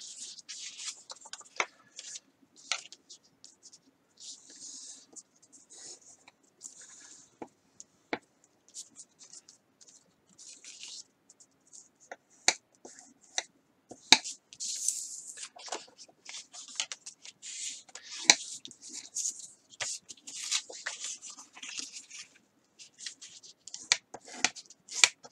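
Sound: folding paper and scoring the edges

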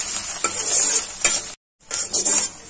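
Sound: grated ginger and green chillies frying in a pan

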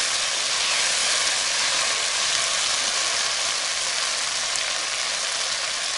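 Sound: okra frying in a pan

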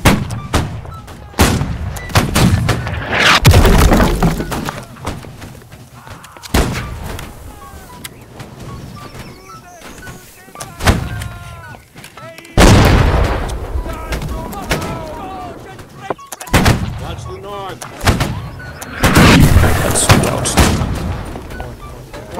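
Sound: musket volley gunfire in the video game Holdfast

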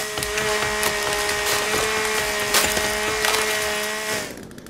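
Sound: chainsaw cutting wood in the video game The Forest

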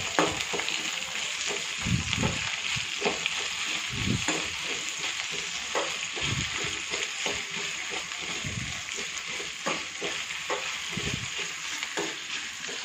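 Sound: frying okra in a pan

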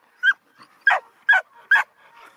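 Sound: hunting dog barking and whimpering

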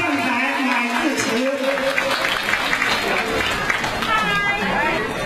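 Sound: audience applause welcoming a speaker

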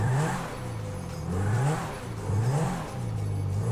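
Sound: Lamborghini Centenario engine on test drive, GTA 5 mod video game

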